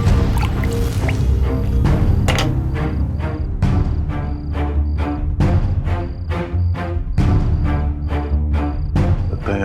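Acid drips steadily at a crime scene, with repeated sharp drip sounds falling at a regular rhythm under a loud, dense backdrop of dramatic music.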